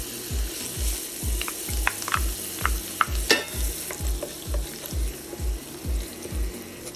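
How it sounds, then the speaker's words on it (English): Grated ginger and garlic saute in spiced butter, a steady close sizzle broken by regular rhythmic scrapes of stirring, about two strokes per second. "Then add grated ginger and garlic,"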